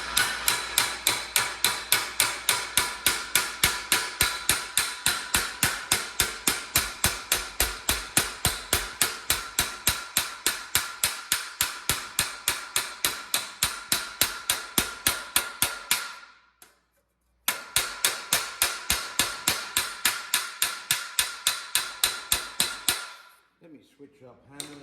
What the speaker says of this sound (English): So I'm going to use just a regular nice little hammer, got some good weight to it